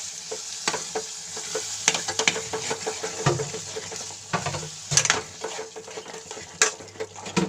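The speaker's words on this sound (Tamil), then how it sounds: "இப்போ அரைச்சி வச்சுருந்த தேங்காய் பாலையும் சேர்த்து ஊற்றிக்கலாம். ஊற்றிட்டு நல்லா கிண்டிக்கலாம்" Coconut milk being stirred into a curry in a pan: steady sizzling and frying with repeated scraping and clinking of a spoon against the pan, close and continuous, no talk.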